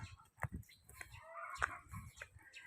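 Rhode Island chickens at a backyard coop give scattered soft clucks and short calls, heard faint and close with light rustling between them.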